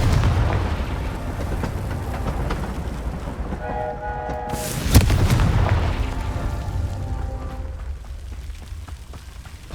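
A Confringo fire spell in the video game Hogwarts Legacy bursts into a loud booming explosion midway, over a continuous rumbling roar of game sound with ringing tonal effects.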